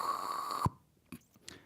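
A voice imitates a horse at the dentist, starting with a sustained high drill-like whine that cuts off in a low thump, followed by a couple of short, faint breathy bursts.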